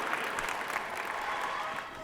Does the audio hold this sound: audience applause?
yes